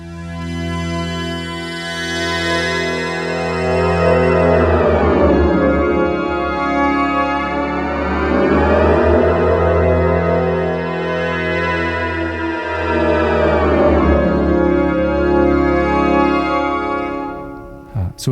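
Sustained synth chords slowly morphing back and forth between two chords, rich and shimmering, with smooth swells and no voices.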